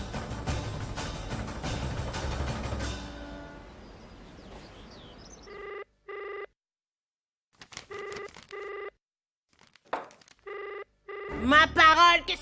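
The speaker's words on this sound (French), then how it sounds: "que ce soit au milieu de la nuit ou en plein jour, ce téléphone n'arrête pas de sonner" A telephone bell rings in repeated bursts, each followed by a gap, after a stretch of louder mixed noise. It ends abruptly with a burst of sound.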